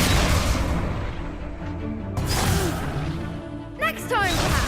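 A Confringo blasting spell in Hogwarts Legacy explodes with heavy booms and a crashing, artillery-like thud during a fight, loud and close, and voices break in near the end.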